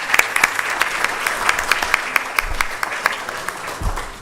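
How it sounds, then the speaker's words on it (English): A conference audience applauds steadily at a university health sciences anniversary celebration, a dense, even wash of many hands clapping throughout with a few sharper claps standing out. "I thought you would give a round of applause for that."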